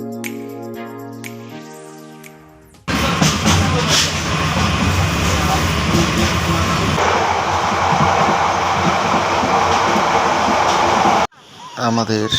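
A passenger train rumbles along on a trip to Cox's Bazar, Bangladesh, a loud, steady roar of wheels and carriage noise for about eight seconds, framed by music before and after.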